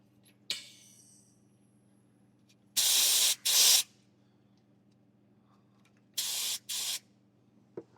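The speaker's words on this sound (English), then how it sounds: "let's get a bit of gas, not very much" Gas hisses in short, loud bursts while a trial cask of ale is pressurised, two pairs of sharp sprays separated by quiet, with a small click before them.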